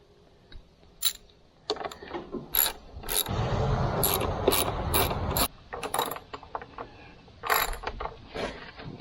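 A ratchet with a 10 mm socket and extension working bolts loose on a TYM tractor: bursts of quick, close metallic clicking alternate with pauses and a longer grinding stretch of turning.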